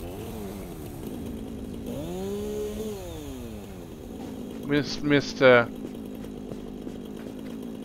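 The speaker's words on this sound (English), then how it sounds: "Chainsaw here." A chainsaw in Satisfactory revs in a few short, rising bursts toward the end, following a stretch of someone talking over a low buzzing drone.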